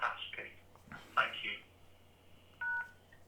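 A person talks briefly, then a single telephone keypad hash-key tone beeps clearly for a fraction of a second, followed by quiet line noise.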